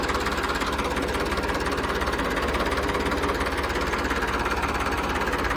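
A Ford 3600 tractor's diesel engine runs steadily at idle, with a continuous, even knocking throb that holds at the same level throughout and no voices over it.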